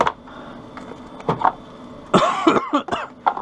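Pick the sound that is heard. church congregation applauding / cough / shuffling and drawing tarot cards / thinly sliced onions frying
cough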